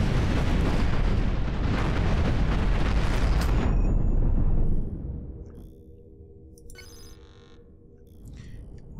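Missiles firing and exploding in the space combat game Cosmoteer, a dense roaring barrage of blasts for several seconds that cuts off into quieter electronic tones and faint ringing.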